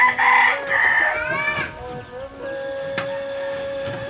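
Green-legged Bulldozer hatch gamefowl cockerels crow in close succession, one loud, rising and falling crow opening strongly before softer crows and clucks carry on in the background at a farm.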